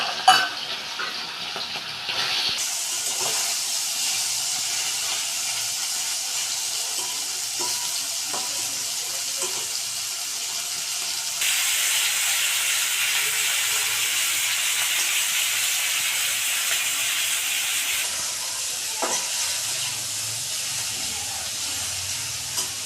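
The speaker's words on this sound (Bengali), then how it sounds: "তেলটা গরম হয়ে গেছে, এবার চিংড়ি মাছটা ভেজে নেব।" Prawns frying in hot oil in a home kitchen, cooked for a bottle gourd and prawn dish: a steady, close broadband sizzle that swells louder midway and then eases, with occasional soft clinks and stirring sounds.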